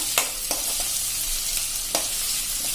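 Onions and chopped green chillies frying in oil on a low-medium flame, a steady soft sizzle with a few brief clinks or stirs, no voices.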